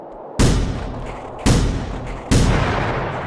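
Gunshots in the video game The Final Station: three loud, close, booming shots spaced about a second apart, each with a decaying tail.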